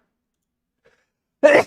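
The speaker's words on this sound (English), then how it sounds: "man, I've got the sneezes this morning." A single sharp sneeze from a man bursts out close to the microphone after near silence, short and abrupt.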